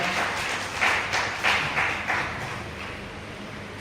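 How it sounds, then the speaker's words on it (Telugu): Congregation in a church clapping together, a steady dense patter of many hands with a few louder bursts, fairly close and continuous throughout. "అందరం కూడా గట్టిగా చప్పట్లు కొట్టి ప్రభుని జ్ఞాపకుడా"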